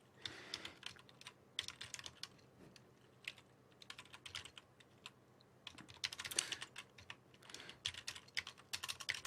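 Rapid typing on a computer keyboard while writing C code, bursts of close, crisp keystrokes with short pauses between runs, no talking.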